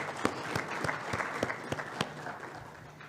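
An audience applauds for a conference speaker at a cybersecurity event in Africa, a short burst of scattered, fairly close claps with a steady rhythm that fades after about three seconds.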